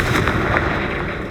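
A Confringo fire spell goes off in Hogwarts Legacy as a loud, close, crackling blast with quick bursts and a dense, fiery rush that stays strong through the short moment.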